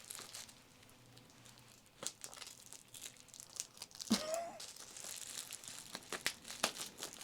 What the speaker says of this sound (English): I'm having trouble getting into this package.